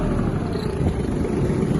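A Kubota T-22 Japanese mini tractor engine runs close by as its revs are brought down, giving a steady, dense rumble and clatter without clear breaks.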